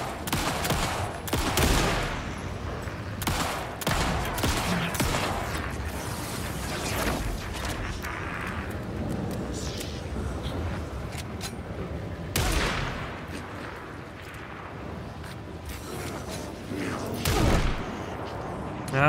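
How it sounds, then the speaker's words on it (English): Repeated gunshots and bursts of fire ring out in the survival horror game Alan Wake 2, with sharp loud blasts scattered among mechanical clanks and creaks, and occasional voices underneath. "Shoot with the gun."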